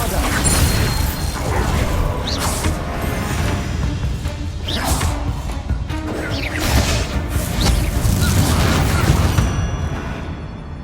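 The Bombarda blasting spell in Hogwarts Legacy goes off amid game combat, with booming, crashing bursts and whooshing impacts over a loud, rumbling mechanical backdrop that rises and falls across the span.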